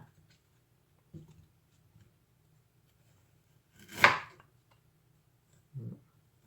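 A knife chops ginger on a cutting board in a quiet kitchen, making a few sparse, isolated knocks. One stroke is louder and sharper than the rest, and no voices are heard.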